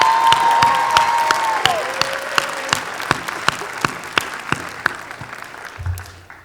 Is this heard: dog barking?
no